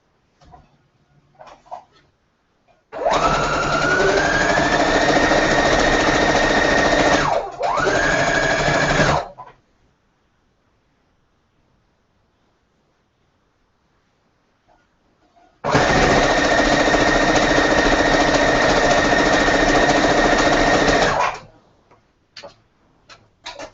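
A sewing machine stitches a quilt seam in two long steady runs of rapid, even mechanical ticking, loud and close, with a brief pause inside the first run and a quiet gap between the two runs.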